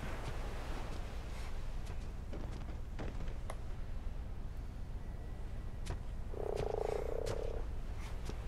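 Frog croaking in the video game ARK Survival Evolved, a short loud call burst near the end over steady game ambience and scattered clicks, with no talk.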